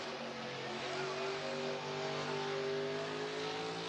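A NASCAR Cup Series car at Kansas does a celebratory burnout against the fence, its engine holding a steady, sustained roar with tire hiss, heard at a moderate distance without interruption.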